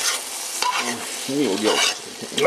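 Porcini mushrooms fry in a pan, a close, continuous sizzle broken by stirring scrapes, while a voice speaks briefly over it.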